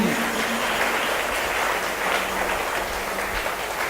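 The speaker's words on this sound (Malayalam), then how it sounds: "ഒന്ന് കൈയടിച്ച് കർത്താവിന് നന്ദി പറയാം" A congregation at a Bible convention in Angamaly claps together, a dense, steady wash of many hands lasting several seconds, fairly loud and without speech.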